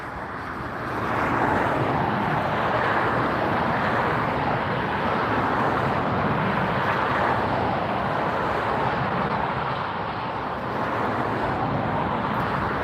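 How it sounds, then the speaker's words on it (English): A Breeze Airways Airbus A220-300 jet climbing away after takeoff at LAX produces a steady, broad roar that holds loud and even for nearly the whole stretch, with no voices over it. "that Breeze Airways is up in the air"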